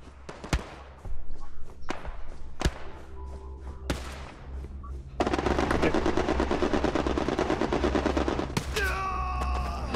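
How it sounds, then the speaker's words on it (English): Aircraft strafing run in Hell Let Loose on Utah Beach: scattered sharp gunshots and thuds give way to a long, dense roar of rapid gunfire filling the second half, loud and continuous, ending with a rising mechanical whine. "Strafing run inbound."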